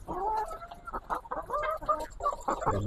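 Chickens cluck in a coop during a rainy-day egg harvest, several hens close by with overlapping short clucks and calls throughout.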